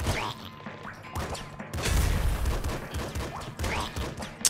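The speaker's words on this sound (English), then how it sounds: "Ah, machine gun." Machine gun fire in the top-down shooter Nuclear Throne comes as rapid bursts of close, punchy shots mixed with crashing impact sounds and game effects, in steady volleys.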